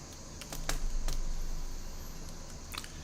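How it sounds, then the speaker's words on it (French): Typing on a computer keyboard connected through a cheap pirate cable, heard as a few sparse, sharp clicks of individual keys in a quiet room. "on va taper quelque chose sur le clavier"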